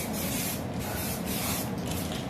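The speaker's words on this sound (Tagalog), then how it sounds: "I-spray lang natin dito sa plastic wrap natin." Samurai sparkling silver spray paint hissing steadily from an aerosol can onto plastic wrap, a continuous close, broadband spray with slight pulses and no talk.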